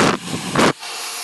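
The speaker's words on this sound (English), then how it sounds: "Really focusing on drying that root and pulling it straight." A hair dryer blowing on a fringe being dried straight at the root, two loud close bursts of rushing air cutting in and out, then a faint steady hiss.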